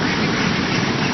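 Ducks on a duck farm, a dense burst of many overlapping quacks, loud and close.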